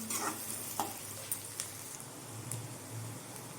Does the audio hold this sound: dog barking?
no